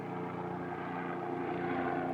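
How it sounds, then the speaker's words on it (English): A helicopter passes overhead, a steady, dense droning roar of rotor and engine that holds at an even loudness throughout, with no voices over it. "it's a helicopter. That's a helicopter."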